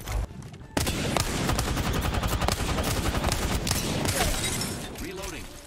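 Rapid bursts of enemy gunfire in the battle royale shooter Apex Legends, loud and close, with overlapping automatic weapon fire and sharp shots continuing almost without pause, and a voice speaking briefly over the din.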